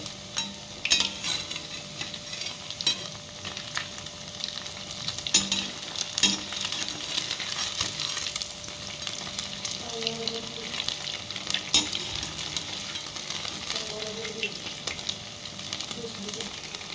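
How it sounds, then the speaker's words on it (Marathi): Vadas frying in hot oil, with a steady close sizzle and occasional scrapes and clinks of a utensil turning them in the pan, continuing throughout. "आता आपण एक साइड व्यवस्थित तळून घेऊया।"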